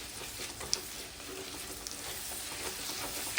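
Sliced onions with a couple teaspoons of salt sautéing in a pan for a Kerala-style spicy beef roast, a steady close hiss of frying with a few faint stirring clicks, no voices.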